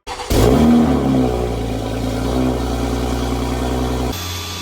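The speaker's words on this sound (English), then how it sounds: "Cold start!" A Toyota Supra cold-starts up close: a sharp crank and catch, a loud rev flare, then a rough, steady high idle for several seconds before the sound cuts off abruptly.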